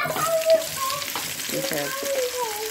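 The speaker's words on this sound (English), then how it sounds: "So you can hear that sizzle going." Steady, close sizzling of onions frying in hot bacon grease, a continuous crackling hiss with faint stirring, briefly overlaid by a high tonal squeal.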